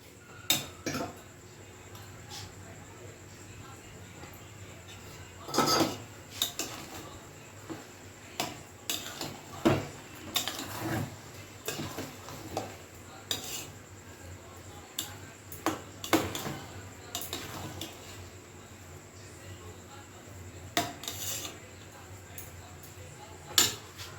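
A spoon clinks and scrapes around a pot of vegetable pulao as it is stirred, giving a run of light metallic taps and knocks at uneven intervals over a quiet kitchen background.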